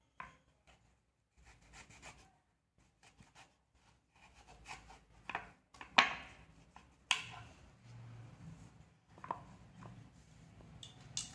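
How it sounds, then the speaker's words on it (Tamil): A knife works through a hard raw mango being cut for pickle, making faint, sporadic scraping and rubbing strokes with a few sharper cuts between quiet gaps. "ஒரு சைடு கட் பண்ணியிருக்கேன் இன்னொரு சைடும் கட் பண்ணுறேன்"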